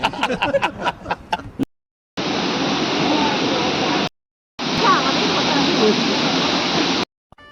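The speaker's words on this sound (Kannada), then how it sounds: "ಇಲ್ಲಿ ಫಾಲ್ಸ್ ಇದೆ" Waterfall at Apsarakonda: loud, steady broadband roar of falling water, heard close, in two long stretches after a few seconds of speech at the start.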